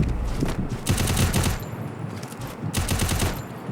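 Gunfire from a shooting video game: two bursts of rapid automatic shots, the first running about a second and a half, the second shorter near the end, loud and close with a low background between them.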